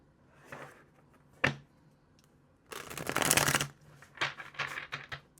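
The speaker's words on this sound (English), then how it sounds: "One more shuffle." Tarot card shuffling in a few bursts: a short riffle, a sharp snap, then a longer, louder riffle and some quick flutters, close by with no talking.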